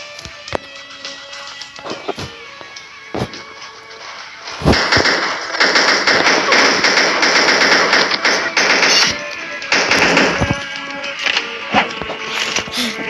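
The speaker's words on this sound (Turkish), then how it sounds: "Burada çatışma var." Rapid automatic gunfire and bursts of shots from a firefight in the mobile shooter game Pixel Gun, loud and dense in the second half, with scattered shots early on and someone talking at times.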